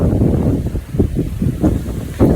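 Strong wind buffets the microphone in loud, gusty rumbles, with faint rustling underneath.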